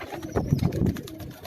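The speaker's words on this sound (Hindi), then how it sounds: "ये भी बड़ा ज़बरदस्त कबूतर लग रहा है जी मुझे" Pigeons coo on a rooftop loft in Karachi, a few soft throaty calls rising and falling close by over a low murmur of background noise.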